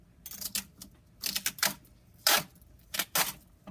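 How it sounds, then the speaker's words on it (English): A strip of duct tape is pulled off its roll in a maker space, giving quiet, close bursts of sticky crackling and ripping in uneven pulls separated by short pauses. "this duct tape right here. I'm going to start by peeling off a pretty long strip"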